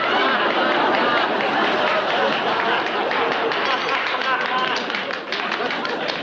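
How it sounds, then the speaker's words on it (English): An award-show audience applauds the nominees with dense, sustained clapping, mixed with crowd chatter and voices throughout, loud and steady. "Would all the nominees please stand and accept our applause?"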